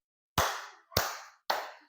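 A single person claps hands three times, each crisp, close clap separated by about half a second in an otherwise quiet room.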